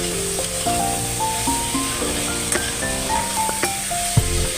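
Taro stolons fry with dried shrimp in a pan, giving a steady hiss of sizzling under a stepping tonal melody, with a soft knock of stirring near the end.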